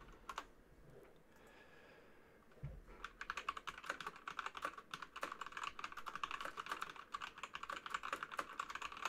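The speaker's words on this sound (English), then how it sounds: "that's me typing" Fast, continuous typing on a computer keyboard, with dense clicking keystrokes close to the mic after a quiet start and a single thump, with no speech.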